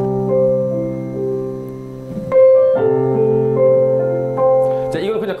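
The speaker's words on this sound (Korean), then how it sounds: "이런 피아노 소리가 있는데" Piano chords ring out one after another, sustained and clear, changing several times over a few seconds with no talking.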